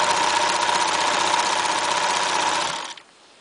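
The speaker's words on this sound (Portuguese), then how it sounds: "E vamos para a máquina de costura." A sewing machine stitching fabric for a rag doll, a steady close mechanical whirr with rapid even needle rhythm that runs for about three seconds and then stops.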